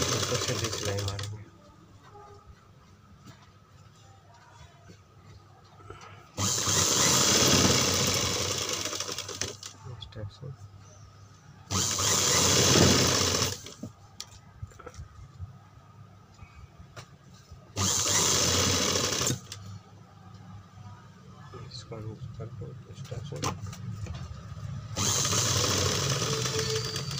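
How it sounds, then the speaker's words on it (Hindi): A sewing machine stitching the back of a suit runs in several loud, sustained bursts of rapid stitching, separated by pauses in which a person talks. "इसको सीधी सिलाई मारेंगे"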